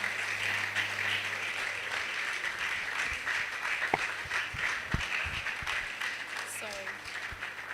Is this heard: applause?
yes